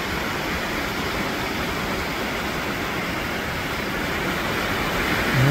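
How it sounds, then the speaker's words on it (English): A steady, even rush of falling water at Tumalo Falls fills the scene, constant and unbroken, heard from a moderate distance. "That's a real beautiful waterfall"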